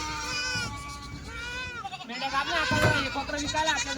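Small lambs bleating while being unloaded from a livestock truck, several high wavering cries close by, overlapping one another in quick succession, with someone talking throughout.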